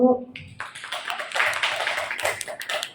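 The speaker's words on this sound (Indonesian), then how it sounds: "Tepuk tangan dong Bapak Ibu." Audience of teachers and parents clapping during a school presentation on positive culture, a brief scattered burst of hand claps that builds then thins out, fairly close and moderately loud.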